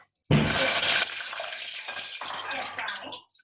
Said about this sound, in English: The thing about squid, and this is why I don't make calamari very often, is it does pop when it fries